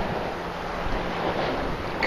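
Waves roll in at a bay as a steady, broad wash of surf mixed with wind noise across the microphone, with no clear break in the rushing; no talking.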